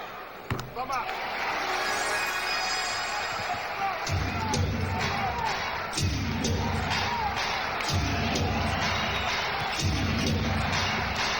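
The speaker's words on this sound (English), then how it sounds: "You heard them erupting when applauding, thinking Ewing had fouled out" A large arena crowd at a 1995 NBA game between the Orlando Magic and New York Knicks roars and cheers continuously, with a basketball bouncing rhythmically on a hardwood floor underneath the din.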